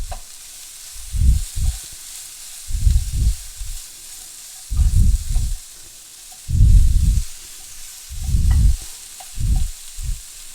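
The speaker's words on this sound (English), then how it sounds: "Saute it a little bit more so that the veggies cook just a little bit" Vegetables for pulao sizzle in a pan in repeated bursts of frying as they are stirred, with short quieter gaps between each loud hiss, close up and without talk.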